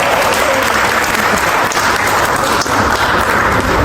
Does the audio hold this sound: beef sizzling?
no